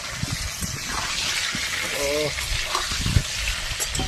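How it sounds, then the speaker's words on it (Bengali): Pointed gourd sizzles and crackles in hot oil, a steady frying hiss with stirring noises and brief bits of voice. "পটলটা ভেজে নেবো"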